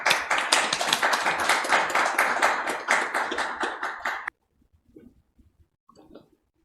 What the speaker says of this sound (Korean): 곽수일 이사장님을 큰 박수로 맞이해 주시기 바랍니다